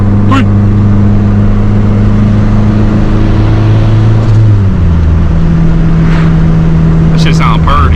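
A turbocharged Honda EG with a D-series engine revs loudly and steadily, holding a constant drone, then drops in pitch near the middle as the revs settle, with brief sharp bursts toward the end.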